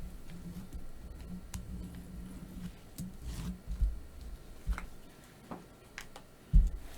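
Scissors snip through paper for a mosaic in quiet, uneven bursts of soft crunching cuts, close by, with small rustles and a few louder clips between pauses.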